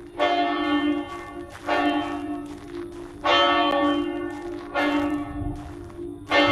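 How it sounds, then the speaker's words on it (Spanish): A church bell tolls in the video game Greyhill Incident, with four loud, resonant strikes spaced about every one and a half seconds, each ringing out with a long, rich decay that overlaps the next. "Ha tocado la campana para que yo la encuentre"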